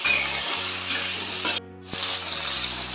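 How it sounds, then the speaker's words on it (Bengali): Chili, capsicum and potatoes fry in oil in a pan while being gently stirred, giving a close, steady sizzle that breaks off briefly before resuming. "এর মধ্যে এবার কাটা এগুলো দিয়ে দেবো, লঙ্কা, ক্যাপসিকাম, আলু, হালকা হাতে নেড়ে নেবো।"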